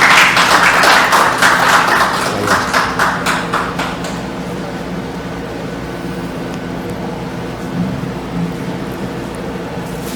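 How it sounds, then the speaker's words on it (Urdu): An audience applauds to welcome Dr. Sajjad Syed at a farewell gathering, a burst of dense clapping for about four seconds that thins into scattered claps and quiet room noise. "آپ تمام کی بھرپور تالیوں میں استقبال کیجیے گا."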